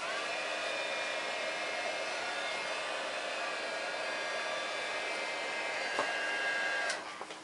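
A heat tool blowing hot air to heat set a clothespin craft, a steady close whooshing whine holding level for about seven seconds before switching off, with a small tap near the end.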